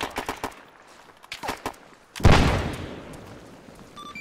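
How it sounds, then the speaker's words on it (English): A frag grenade explodes in ArmA 3 with one heavy, loud boom that rumbles away, preceded by a string of sharp rifle shots and followed by distant shooting. "Hey, I'm throwing a frag."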